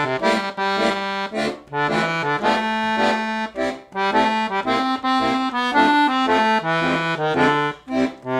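A 120 bass accordion plays a phrase of a song with chords, a reedy melody over rhythmic bass-and-chord pulses in a clear, steady tempo, played alone with no talking.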